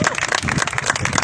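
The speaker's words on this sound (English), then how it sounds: "Let's give them another round of applause." An audience at a National Heroes Day wreath-laying ceremony applauds, a brief burst of fairly close, busy clapping with some crowd noise.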